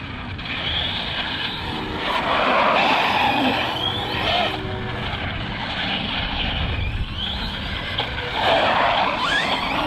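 An Arrma Big Rock 6S RC car drifting on a street, its electric motor whining and tires skidding in repeated loud surges, close by and without talk.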